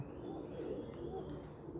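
A pigeon coos faintly amid low background noise, in a loft setting among prized breeding birds, a steady soft murmur with no clear voices.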